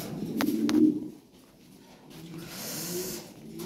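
A pair of pigeons kept for sale gives a few soft, low coos close by, the first burst louder and the later ones fainter, over a quiet background.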